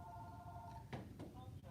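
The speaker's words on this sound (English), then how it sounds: "What is that ringing?" A telephone rings as a steady tonal trill that cuts off partway through, followed by faint background clatter and soft voices.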